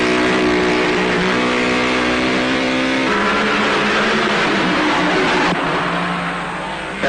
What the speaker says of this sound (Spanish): Ferrari 2500, motor derivado del Lance, 8 cilindros, 8000 vueltas